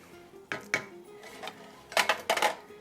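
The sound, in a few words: stirring cumin and spices in a cooking pot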